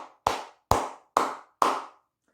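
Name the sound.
hand clapping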